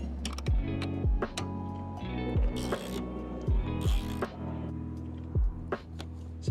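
A 12mm spanner loosens the mirror mount nut on a 76 or 78 Series Landcruiser, giving a run of quiet, rhythmic metallic ratcheting clicks at close range.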